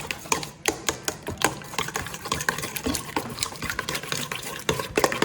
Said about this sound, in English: we'll give that a little stir